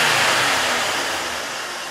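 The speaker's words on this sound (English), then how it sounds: "Well, that's what a truck is supposed to sound like." A 1986 Ford F-150 pickup engine runs steadily close by, a loud broad rumbling roar that eases slightly over a couple of seconds.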